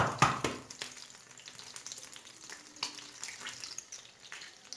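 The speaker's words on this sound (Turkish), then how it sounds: "Şöyle yumurtamı kırıyorum şu şekilde şunu da buraya vurayım." Two eggs are cracked on a pan's edge and dropped into low-heat oil, giving a couple of sharp taps followed by a faint, steady sizzle close by.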